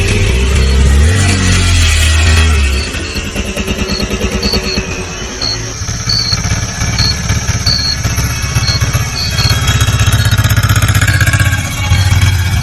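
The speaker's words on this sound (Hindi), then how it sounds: "ऑटो में बैठते ही राजू भाई ने चुपचाप इंजन स्टार्ट किया" An auto rickshaw engine starts and settles into a loud, steady clattering run, with a deep throbbing pulse that holds throughout and no talking.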